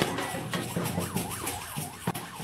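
An ambulance siren wails in a steady rising-and-falling pattern, fairly loud and close, over a busy outdoor fair background with music-like rhythm during a float parade.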